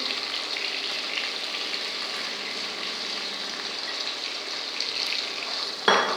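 Curry leaves and chopped onions sauté in a pan for vegetable upma, giving a steady, even sizzle throughout, with a brief louder clatter near the end.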